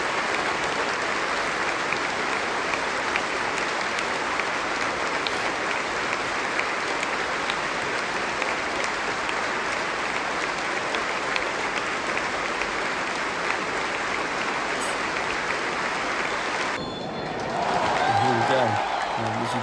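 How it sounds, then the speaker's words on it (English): Football stadium crowd at a Liverpool versus Monaco match giving a minute's applause tribute for Kevin Keegan: a vast, continuous roar of clapping that holds steady for nearly twenty seconds before briefly dipping near the end. "applause for Kevin Keegan"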